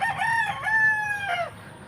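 A white game-fowl rooster gives a single close, loud crow, the call rising and holding before breaking off, with faint background noise after.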